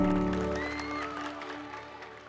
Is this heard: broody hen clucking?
no